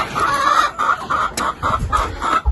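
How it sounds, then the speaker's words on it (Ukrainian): Chickens cluck repeatedly in short, rhythmic bursts nearby in the morning, with roosters crowing among them; no one speaks. "петухи у нас, як зазвичай, зранку вже співають"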